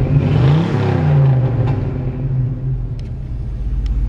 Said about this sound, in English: It's got a nice sounding exhaust.